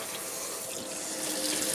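Tap water runs steadily as a car motor mount is rinsed under a faucet, a close, constant splashing rush with no talking.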